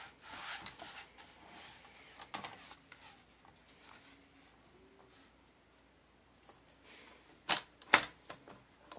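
Cardstock being cut to size for a handmade Christmas card, heard as soft rubbing and scraping strokes with sharper snips or clicks near the end, close and fairly quiet with no talk.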